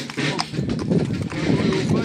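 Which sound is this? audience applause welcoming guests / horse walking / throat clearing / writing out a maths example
horse walking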